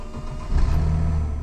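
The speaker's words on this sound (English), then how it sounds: "Car starts right up" A Mercedes E320 W211 engine cranks briefly and catches, settling into a steady low idle rumble up close, with no talk over it.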